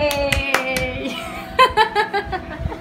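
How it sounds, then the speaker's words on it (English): Children clap their hands in a few quick bursts, close up, with laughter and a voice and adult speech mixed in around the claps. "Clap your hands. Clap your hands."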